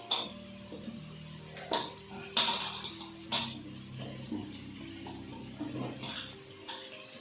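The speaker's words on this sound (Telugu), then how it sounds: "ఇప్పుడు అన్ని కూరగాయ ముక్కలన్నీ వేసుకుందాం" Cut vegetable pieces (carrot, brinjal, bottle gourd, drumsticks, potato) drop into a pot of sambar with softened tomatoes, making a few soft splashing thuds against a faint, steady background.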